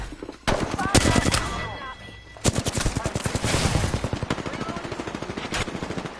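Rapid bursts of enemy gunfire in a video game shooter, dense automatic volleys and single cracks coming in loud waves, with brief pauses between the bursts.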